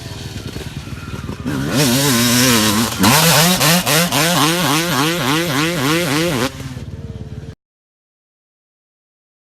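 A Suzuki two-stroke motocross motorcycle revs hard and close, with a high buzzing engine rising and falling in a rapid series of throttle blips before it cuts off into silence.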